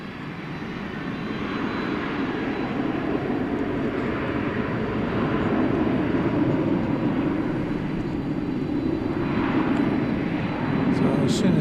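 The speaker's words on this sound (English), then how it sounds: "As soon as that American Airlines plane gets out of the way, there you can see it." Jet airliner engines at Dallas/Fort Worth International Airport at night give a continuous, loud, broad roar that swells slightly and holds steady throughout.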